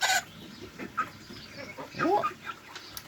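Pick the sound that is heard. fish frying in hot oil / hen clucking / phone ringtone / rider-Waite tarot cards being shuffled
hen clucking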